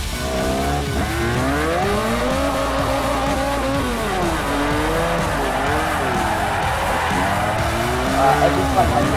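A car spins out with sustained, loud tire squeal in a Forza 4 drift-tuned setup. Wavering, pitch-shifting screeches ride over engine noise continuously from start to finish.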